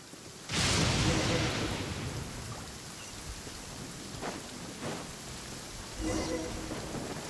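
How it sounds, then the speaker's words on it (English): Steady rain pours during a thunderstorm in the Genshin Impact video game, with a loud crash of thunder near the start, a few softer rumbles midway and another burst toward the end, all under continuous downpour. "Uh-oh! Lightning storm!"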